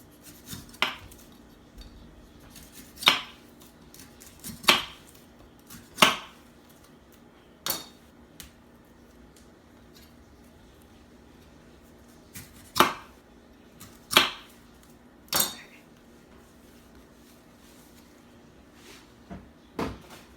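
A knife chopping into a young coconut, a dozen sharp hard whacks spaced a second or more apart with pauses between, close and loud with no talking.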